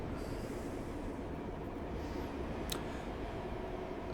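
A generated train rolls through a station, giving a steady low rumble with faint wheel squeals and one sharp metallic click, heard alone at moderate distance.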